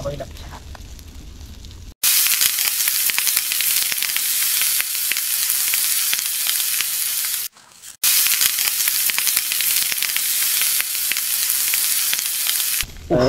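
Fish sizzles and hisses on a barbecue grill outdoors, a loud, constant frying crackle that drops out briefly twice before resuming, with people talking over it.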